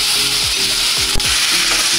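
Eggplant and potato fry in a pan while being stirred, with a constant bright sizzle under a few scraping stir strokes, close and fairly loud with no talk.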